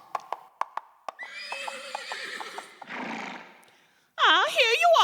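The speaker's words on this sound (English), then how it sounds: "Here she is riding that absurd old horse" An old horse neighs in a loud, shaky whinny, preceded by a few sharp clip-clops and followed by snorting and a second bright neigh close by, with a voice briefly heard.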